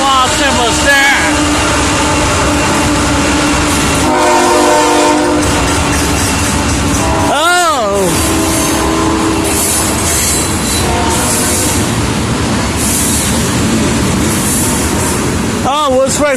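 A freight train and an Amtrak train pass close by, with loud rumbling and clickety-clack of wheels, two blasts of the train horn and some wheel squeal, while people talk over the passing cars.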